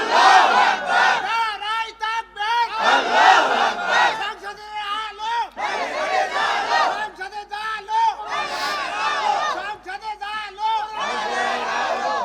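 A large crowd at a religious gathering shouting takbir together in loud unison, several powerful repeated chants one after another, close and dense with voices.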